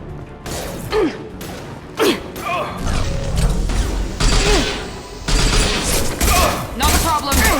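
Gunfire in the video game Mass Effect Legendary Edition, loud repeated bursts of shots and mechanical clatter over a busy battle mix, with voices speaking over it.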